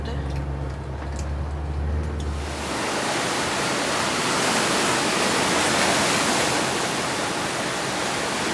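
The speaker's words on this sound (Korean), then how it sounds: "파도가 부서질 때면 파도가 1m 이상이라는데" Ocean waves break at Panji port in Ulsan, a loud continuous roar of surf that swells in after a brief quieter start.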